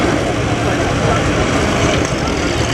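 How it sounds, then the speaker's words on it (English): A David Brown winch and threshing tractor at an agricultural show in Okehampton runs with a steady, rumbling engine drone, close and continuous, while someone talks over it. "This is a David Brown winch tractor and thrashing tractor."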